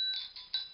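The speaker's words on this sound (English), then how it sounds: "Ring the bell three times." A Yorkshire Terrier rings a small bell, giving three short bright rings in quick succession, close and fairly faint, with no talking.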